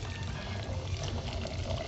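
Fish sauce poured into a pot of boiling water while cooking dinengdeng, a steady close liquid gush over bubbling water, no voices.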